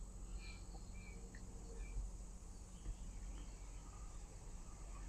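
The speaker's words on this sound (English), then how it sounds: "Got the crickets and the birds going." Crickets chirp steadily outdoors with occasional short bird calls in the distance, a faint, calm nature ambience with no talking.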